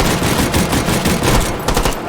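Assault rifle firing rapid automatic bursts in the H3VR virtual reality shooting game, loud and close, a dense rattle of shots over about two seconds.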